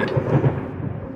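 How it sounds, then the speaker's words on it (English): A short, low rumble of thunder in a video game, a brief deep roll that fades out quickly. "there's thunder"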